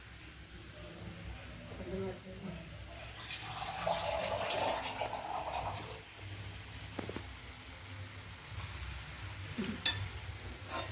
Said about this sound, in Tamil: இதில் கொஞ்சம் கூட தண்ணி ஊற்றிக்கலாம்.